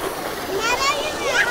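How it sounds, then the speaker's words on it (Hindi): Thick stream of water pouring from a village tubewell onto farmland, a continuous rushing splash heard up close, with children's voices and someone talking over it. "ये जो देख पा रहे हो काफ़ी मोटा पानी गिर रहा है, जो टिबुल बोलते हैं गाँव में"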